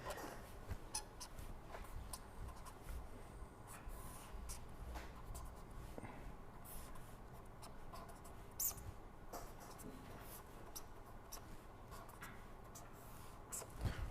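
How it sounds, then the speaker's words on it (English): A hand writes out an equation with faint, continuous scratchy pen strokes and small taps on paper, quiet and close, steady throughout with no talk. "I will just write this down here."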